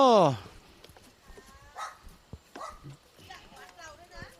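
A dog barks and yips near a temple in rural Sai Yok, Kanchanaburi, with a loud opening bark followed by softer yelps and whimpers, while people talk nearby.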